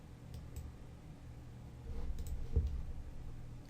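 Computer mouse clicks come faint and close during logo design work in graphics software, a few soft, sparse ticks.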